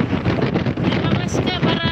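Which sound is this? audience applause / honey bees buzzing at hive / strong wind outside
strong wind outside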